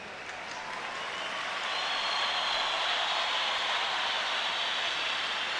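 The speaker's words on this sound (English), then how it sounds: "that sound you can hear in the background is the crowd acknowledging the arrival of Falcao" A futsal arena crowd at a World Cup match between Australia and Brazil gives a broad, steady wash of applause and noise that swells slightly and holds loud as Falcao arrives.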